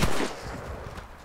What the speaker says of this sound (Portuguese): Uma bombinha.